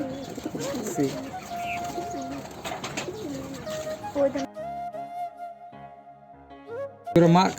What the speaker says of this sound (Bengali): কবুতরগুলো অনেক সুন্দর এক জোড়া কবুতর